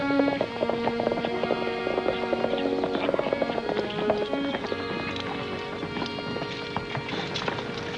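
Horse hooves clip-clop on the ground in a 1953 western TV episode, a brisk rhythm under music that fades toward the end.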